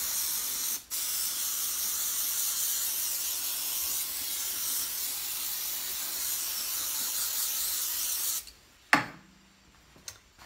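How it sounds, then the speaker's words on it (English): A continuous hissing spray of CA glue accelerator onto the back of a wooden piece runs steadily for about eight seconds, then stops, followed by a few sharp clicks and knocks close by. "I'm gonna spray accelerator all on the back of this side."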